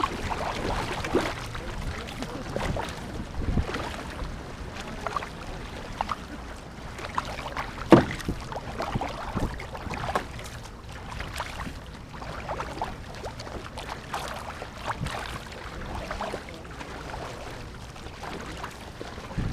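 A war canoe team paddles together on open water during practice, with steady splashing and dipping strokes and a continuous watery wash, fairly close and moderately loud throughout.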